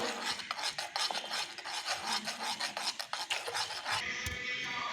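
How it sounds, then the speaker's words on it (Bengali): Cold milk whisked with powdered milk in a bowl, a steady rapid scraping, rasping rhythm close by that continues for several seconds before easing off near the end. "এই দুধটা ভালো করে ফেটে দিয়েছি"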